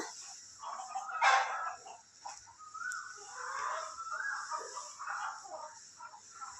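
A chicken clucks and calls amid other birds, with a louder burst early on and scattered fowl sounds continuing at moderate distance.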